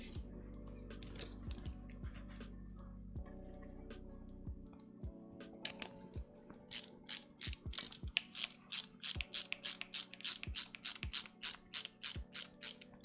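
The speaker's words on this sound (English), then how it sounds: "There are 2 screws, one on each side, that go into the plunger rod." Screws driven into a 3D printed Nerf blaster plunger rod, first a few scattered clicks and a low hum, then a rapid close series of crisp ratcheting clicks from a screwdriver.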